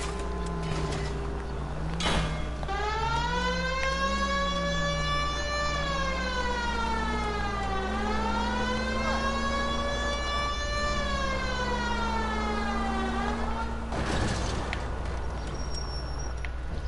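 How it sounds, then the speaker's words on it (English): A police car siren in the video game LA Noire wails continuously, sweeping up and down in long rising and falling cycles, loud and close, with low engine rumble beneath and no talking. "I feel more comfortable with the siren on"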